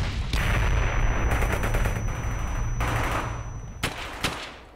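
Dense, continuous gunfire from rifles and machine guns in the World War II shooter Brothers in Arms: Hell's Highway, with rapid overlapping bursts and sharp reports filling the scene loudly.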